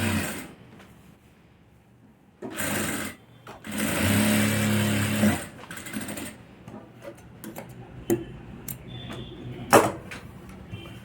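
A sewing machine runs in short bursts stitching along the edge of a coat, with whirring runs separated by pauses, light clicks and handling noises close by.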